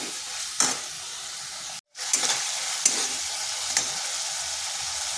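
Ground spice paste for a kakrol dish being sautéed in a pan, a steady soft sizzle with a few spoon scrapes, briefly cut to silence near the middle before resuming.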